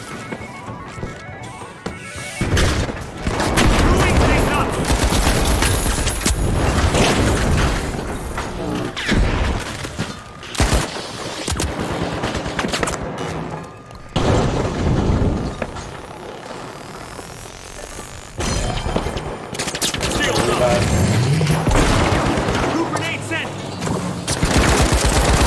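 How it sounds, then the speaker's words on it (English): Goo grenades explode amid heavy video game combat, a long stretch of loud bursts and rapid gunfire with a few brief lulls, with talk underneath. "Throwing goo grenades!"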